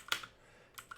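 A handful of quick keystrokes on a computer keyboard, close and soft, a short cluster of taps followed by a brief quiet gap and another pair of clicks.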